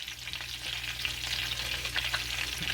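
Breaded chicken cordon bleu frying at low heat in a pan, a steady close sizzle with faint stirring and crackle throughout and no voices.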